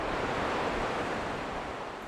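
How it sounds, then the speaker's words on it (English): Ocean surf breaking on the shore below a coastal lighthouse, a steady, dense wash of crashing water heard up close, with wind rumble on the microphone and no talking. "And there's the ocean, you know, literally breaking at your feet."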